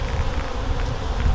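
Honey bees swarm and buzz around an opened beehive as a beekeeper works the frames, a dense, steady, close-up drone with no one speaking.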